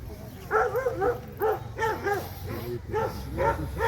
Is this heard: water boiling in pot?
no